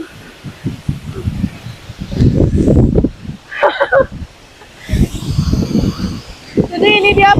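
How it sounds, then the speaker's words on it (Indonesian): Very strong wind at a high lookout buffets the microphone in loud, uneven gusts with rustling between bursts, and brief voices come through. "Ini benar-benar anginnya kencang banget"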